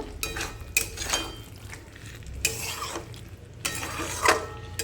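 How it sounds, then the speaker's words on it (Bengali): Paneer being stirred through a vegetarian potol gravy in a cooking pan, giving intermittent scraping and clinking strokes with soft thuds, close and moderately loud, no talking. "চলো এবার পনিরটা দিয়ে দেবো পনিরটা দিয়ে ভালো করে নাড়াচাড়া করে নেব"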